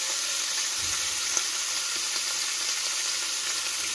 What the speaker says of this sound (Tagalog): lulutuin ko na lang muna yung mga lamas